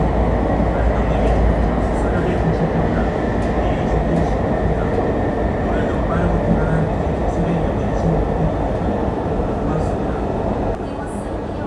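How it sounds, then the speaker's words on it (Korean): A KTX SRT high-speed train pulls into Suseo Station, heard from inside the carriage as a steady loud rumble and rail rattle with faint clicking that holds throughout before easing slightly at the end. "잠시 객실을 둘러보던 사이에 어느덧 열차는 수서역에 도착합니다."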